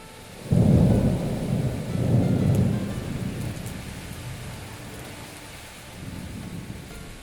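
A thunderstorm on a remote island rolls in with a loud, deep rumble of thunder that swells twice and fades, while steady rain hisses throughout.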